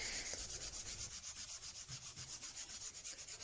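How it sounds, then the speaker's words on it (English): Steady rhythmic scratching of sandpaper worked by hand across a wooden Telecaster guitar body, fast back-and-forth strokes at close range with no voices. "I'm sanding in all directions to make sure this is smooth in all directions"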